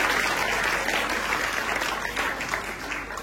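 Concert audience applauding a choir, steady dense clapping filling the hall at a constant level throughout, with no voices standing out.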